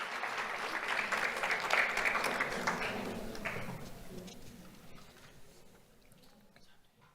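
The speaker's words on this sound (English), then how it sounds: "Round of applause for Isaiah Kanzler" An audience at a Do The Right Thing awards ceremony applauds a fifth-grade honoree; the clapping is moderate at first, then gradually thins and fades out over the second half.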